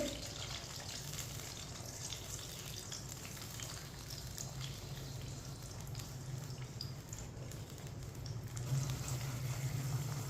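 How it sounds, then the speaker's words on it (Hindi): Jaggery sugar syrup being stirred on a lit stove for sweet gur rice, a steady low simmering bubble with soft sizzling and faint scraping, even and continuous with no voices. "चाशनी को अच्छी तरह मिक्स कर लेना है।"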